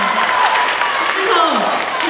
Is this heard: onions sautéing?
no